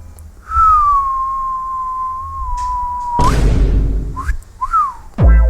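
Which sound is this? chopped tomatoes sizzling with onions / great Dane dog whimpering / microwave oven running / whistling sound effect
whistling sound effect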